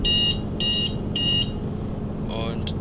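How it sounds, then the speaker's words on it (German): An alarm clock rings in three evenly spaced electronic beeping bursts, loud and close, followed by a short higher chirp, over a steady low engine rumble in a truck-driving game. "ich weiß nicht, ob ihr es gerade gehört habt, aber es hat sich angehört wie ein Wecker"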